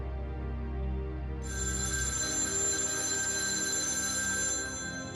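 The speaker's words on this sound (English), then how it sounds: "A phone rang." A telephone ringing, a bright sustained electronic ring that starts a moment in and holds steadily for several seconds before cutting off, close and clear over a low background hum.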